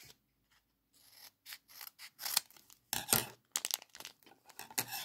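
Football trading card pack being opened from the bottom by hand, close crinkly foil and paper rustles in short bursts with brief pauses, quiet and near, no talking.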